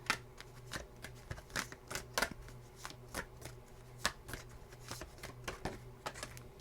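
Oversized tarot cards being shuffled by hand, a rapid run of crisp riffling bursts and papery slaps at close range, repeating unevenly over a low steady background hum.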